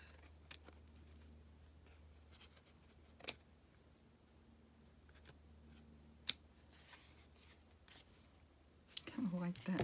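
Scissors trimming paper for a craft project, a few quiet close snips and soft paper rustles over a low background hum.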